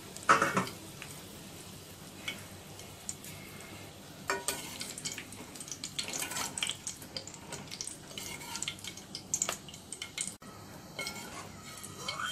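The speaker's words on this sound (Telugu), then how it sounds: "ఇప్పుడు స్టవ్ ఆఫ్ చేసుకున్న తర్వాత కరివేపాకును వేసుకుని వేయించుకోవాలి." Curry leaves fry in a pan on a just-switched-off stove while making sabudana mixture, giving a soft sizzle under repeated close scraping and clinks of a stirring spoon, with no talk.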